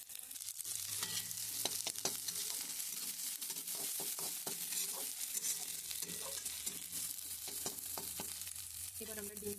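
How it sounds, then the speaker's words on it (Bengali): Onions and green chillies fry in a pan over a chulha, a steady hiss of sizzling oil broken by frequent scraping clicks from the stirring spoon, close and continuous with no talking. "পেঁয়াজটাকে আমরা ভালো মতো ভেজে নিই"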